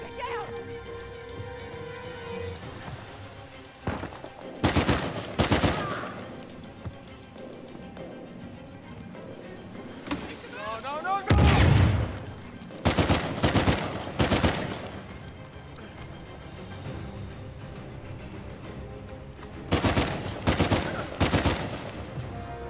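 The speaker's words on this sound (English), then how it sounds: "Okay, who's shooting now?" Gunfire from the video game Uncharted 4 erupts in several loud bursts of rapid shots, separated by quieter stretches and with one heavy low blast near the middle.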